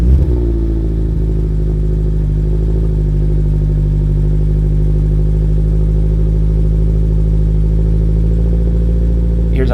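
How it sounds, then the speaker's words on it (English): Subaru BRZ/GR86 fitted with an MRT Sport Touring exhaust idling after a cold start, a loud, steady, deep burble held close to the tailpipes throughout. "And here's how the MRT Touring sounds on a cold start."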